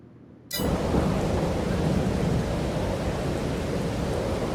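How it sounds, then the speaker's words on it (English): Steady rain with rolling thunder in the farming video game Farming Simulator 22, a loud even downpour that switches on abruptly and then holds a dense, continuous wash with low rumbling underneath. "It's going to be raining all day."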